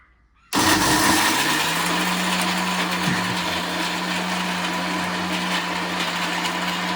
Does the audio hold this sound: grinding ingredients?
yes